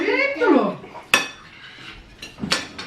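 Small metal spoon clinking against a bowl during a meal of soto tangkar buntut, a few sharp scattered clinks amid soft stirring sounds, close by.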